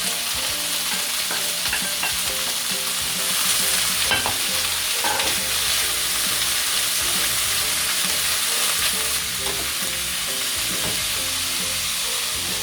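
Cabbage and salmon being stir-fried in a pan for salmon fried rice, with a loud, continuous hissing sizzle throughout and occasional spatula scrapes and clinks, close up and with no voices.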